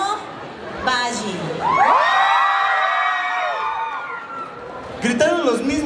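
A crowd of voices at a live concert shouts and cheers together in a loud, sustained burst, with brief scattered calls before and after.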